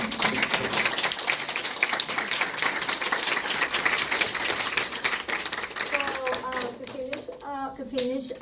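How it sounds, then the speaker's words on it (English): An audience at a morning charity gathering in Dallas claps steadily in a sustained round of applause, dense and fairly near, with voices rising as it tapers at the end. "I want to give a round of applause to all of you for being here this morning"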